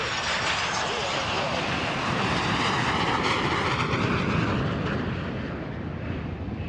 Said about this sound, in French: des avions des chasses de l'armée de l'air des forces armées angolaises ont survolé ce vendredi